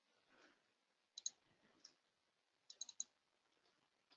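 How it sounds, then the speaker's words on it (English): Quiet, close mouse clicks on a computer during Blue Prism RPA software work, coming in small bursts of two or three sharp clicks separated by pauses, with faint background murmur. "just clicking the action"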